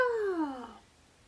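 A house cat gives a single drawn-out meow that slides downward in pitch and fades, heard close and alone in a quiet room.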